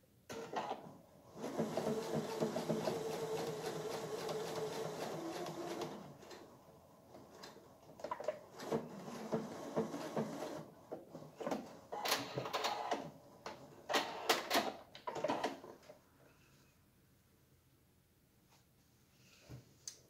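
A sewing machine stitches a seam to close the back of a garment, running in a fast, rhythmic mechanical chatter at first and then in shorter bursts and clicks, fairly close and moderately quiet.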